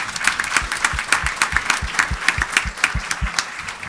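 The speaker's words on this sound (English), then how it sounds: "Let's have one more big round of applause for the Roseville Middle folks." An audience at a school board meeting honoring middle school student leaders claps steadily in a room, a dense patter of hand claps with no voices over it.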